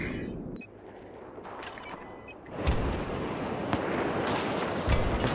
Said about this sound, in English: Just my firing mortars.